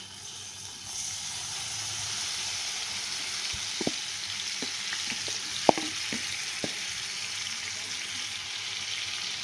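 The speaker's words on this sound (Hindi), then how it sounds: "अब हम ये चिकन इसके अंदर डाल देंगे जो हमने मैरिनेट करके रखा हुआ था" Marinated chicken fries in oil in a frying pan over a medium-low flame for shawarma, giving a quiet, steady sizzle broken by a few soft pops and clicks, with no voices.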